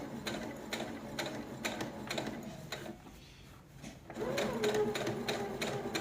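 A sewing machine runs steadily, stitching back over a tote bag seam with a rapid rhythmic needle chatter that pauses briefly midway before resuming.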